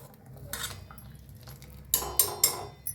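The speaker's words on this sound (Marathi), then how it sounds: "हलवून घेऊया." A spoon scrapes and clinks against a pan while stirring egg masala curry, with one soft stroke followed by three quick, louder metallic scrapes close by.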